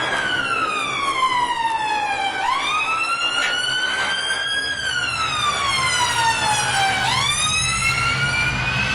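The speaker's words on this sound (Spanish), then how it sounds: "que es la sirena de la ambulancia" Ambulance siren, loud and close, sweeping in long slow wails that rise and fall in pitch across several cycles, with bright harmonics and no voices over it.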